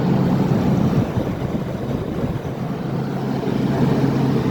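An Amana 9,000 BTU PTAC heat pump with a rotary compressor running, a steady, close whooshing hum of blowing air and compressor drone without any talk.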